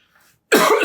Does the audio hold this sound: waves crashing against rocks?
no